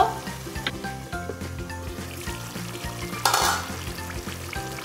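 Coriander powder masala sizzles and fries in a pan while being stirred, with steady crackling hiss and repeated scraping strokes of a spoon, close up, plus a louder burst of sizzle near the end.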